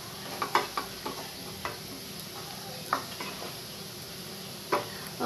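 Bitter gourd stirred with turmeric in a pan, a spoon scraping and clacking against the metal in scattered strokes over a soft, steady sizzle close by.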